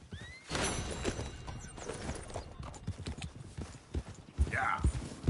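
A horse in Red Dead Redemption 2 with rapid clip-clop hoofbeats and a whinny near the end, mixed with voices and game sounds.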